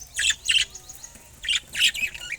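Small pet birds chirp and squawk in quick bursts at feeding time, two clusters of sharp calls separated by a short pause, close and fairly loud.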